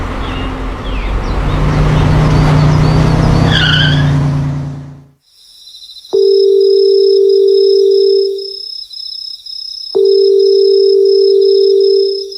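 A telephone call goes unanswered, heard as two long, even ring tones with a pause between them, after a burst of loud vehicle and tire-skid noise at the start.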